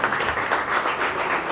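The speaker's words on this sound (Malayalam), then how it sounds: "നല്ലൊരു കയ്യടി അവർക്ക് തന്നെ" Applause for the children at an art school's painting exhibition: a steady wash of clapping from a crowd, fairly close and even throughout with no talk over it.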